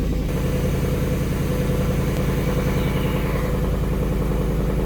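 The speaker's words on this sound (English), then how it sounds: "2022 Mustang GT about to go for a spin. How about we fire it up together?" A 2022 Ford Mustang GT V8 idles steadily, a loud, close, even rumble with a deep throbbing pulse that runs throughout without talk.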